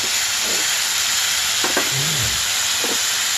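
Ginger and garlic frying in a pan for aloo curry give a steady close sizzle and hiss, with a few brief stirring scrapes and no talk.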